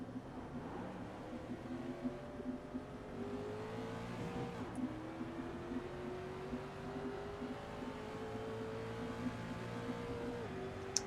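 Race car engine in the iRacing video game drones steadily with gliding pitch changes as the car slows and turns, a continuous mechanical hum with a couple of brief sharp clicks, no talking.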